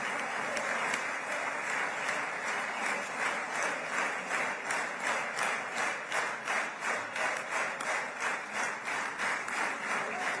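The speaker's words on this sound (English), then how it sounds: "The last time I heard regimented clapping like that" A rally crowd claps in regimented unison, loud rhythmic beats pulsing steadily and evenly for about ten seconds without pause.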